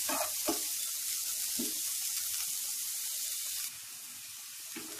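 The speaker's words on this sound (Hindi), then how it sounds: "कैप्सिकम, इसे हम फ्राई कर लेते हैं। हमें इसे मीडियम फ्लेम पे 2-3 मिनट के लिए फ्राई करना है।" Chopped capsicum frying in a pan over a medium flame, a steady soft sizzle with a few faint stirring knocks, fairly close and alone.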